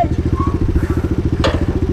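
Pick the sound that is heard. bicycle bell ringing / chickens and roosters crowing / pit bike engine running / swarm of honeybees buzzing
pit bike engine running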